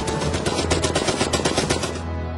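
A Browning automatic rifle, a WWII light machine gun, fires one rapid burst of about two seconds, loud and close, with the shots ending in a short fading echo.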